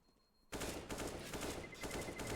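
Counter-Strike pistol fire in an esports match: a quick series of sharp, loud shots kicks in suddenly and rattles on as rapid taps.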